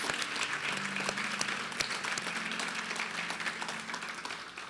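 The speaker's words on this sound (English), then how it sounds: "Let's give a round of applause" A round of applause fills a room at an annual fundraising breakfast, dense and steady clapping from the seated crowd that tapers off slightly toward the end, with no clear speech over it.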